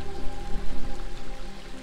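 Close, continuous rush of falling water from a waterfall on a river, a loud steady splashing wash with no voices.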